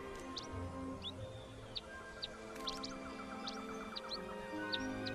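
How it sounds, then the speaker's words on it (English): Birds chirp in short, bright calls repeated several times in the Skyward Sword video game, scattered over a steady background of game music with tonal layers underneath. "At least the birds seem to be taking a liking to him."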